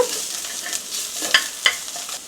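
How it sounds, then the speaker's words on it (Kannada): Chicken liver fries in a pan for a liver pepper fry with a soft, continuous sizzle close by, punctuated by two quick stirring scrapes. "3 ರಿಂದ 4 ನಿಮಿಷ ಇದನ್ನು ಗೋಲ್ಡನ್ ಬ್ರೌನ್ ಬರೋವರೆಗೂ ಹುರ್ಕೊಳ್ಬೇಕು."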